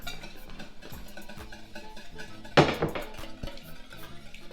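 Wire whisk rattling against a bowl as eggs are beaten with espresso powder for brownies, a steady stream of light clinks with one louder clatter midway, fairly close.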